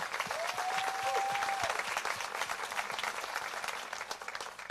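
A crowd applauds steadily for several seconds, a dense wash of clapping with a brief whistle early on.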